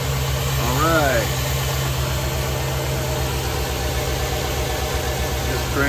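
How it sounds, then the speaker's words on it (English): 2013 Chevrolet Silverado engine idling steadily just after new spark plugs, plug wires and heat shields were fitted, a smooth even drone throughout, with someone speaking briefly over it near the start. "Just cranked her up about 15-20 seconds ago. Let it run for a bit."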